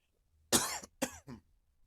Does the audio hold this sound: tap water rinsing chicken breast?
no